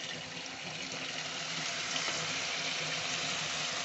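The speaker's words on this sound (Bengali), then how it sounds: "একটুখানি জল দিয়ে দিলাম" A little water goes into a pan of ground spices for Bogura-style egg and potato ghati, making a steady, close rushing hiss that lasts about four seconds without pause.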